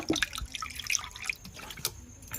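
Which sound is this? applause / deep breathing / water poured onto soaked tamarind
water poured onto soaked tamarind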